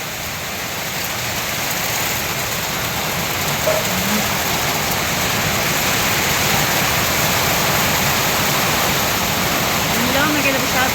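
Floodwater rushing through Manila streets during Typhoon Kristine, a steady, loud broadband roar like a waterfall or heavy rain that holds unbroken for the whole stretch.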